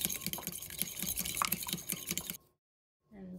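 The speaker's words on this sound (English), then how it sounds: "Whisk it together" Egg and milk whisked together in a bowl for a pie egg wash: a quick, steady run of light clinking strokes for about two seconds, then a short silence and a brief faint sound at the end.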